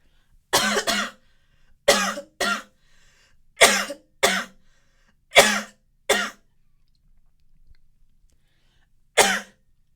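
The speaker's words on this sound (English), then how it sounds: "excuse me, I have to cough." Seven or eight separate coughs, mostly singles and pairs, spread unevenly across a quiet background, close and fairly loud.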